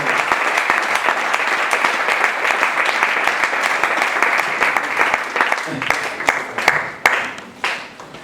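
Church congregation applauding at a French-language service, steady dense clapping that fills the space, thinning into scattered claps near the end.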